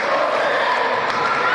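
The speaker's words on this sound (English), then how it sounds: "the student section is cheering wildly" Student section cheering wildly at a girls high school volleyball sectional final in a gym, a dense sustained roar of crowd noise filling the whole moment.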